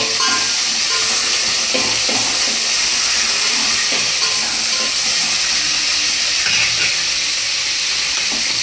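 Mint and green chillies fry in hot oil in a pan, producing a loud, continuous, dense sizzling hiss that holds steady throughout with no speech over it.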